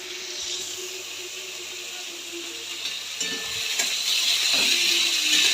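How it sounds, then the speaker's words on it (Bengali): Teasel gourd and potato fry in hot oil with a steady bright sizzle that grows slightly louder, plus occasional clinks of a utensil against the pan. "কাঁকরোল আলুটা ভেজে নেব"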